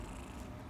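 An energetic, friendly young cat that is missing an eye and a leg purrs softly and close in a brief, steady low rumble with no other sounds.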